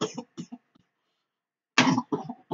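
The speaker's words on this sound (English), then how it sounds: "Oh, excuse me, I've got a bad cough." A person with a bad cough hacks out two quick bursts of close, loud coughing with throat clearing, separated by a second of silence.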